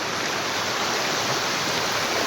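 Water from a lake filled by heavy rain rushes out through an overflow channel. It makes a steady, loud, broadband roar like a stream or small waterfall, heard alone with no talk.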